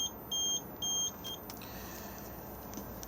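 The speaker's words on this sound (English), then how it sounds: "if I press this at the moment, it will start beeping at us" A campervan fridge control panel gives two short electronic beeps in quick succession because the engine is off, followed by a brief faint chirp, then quiet low background hum.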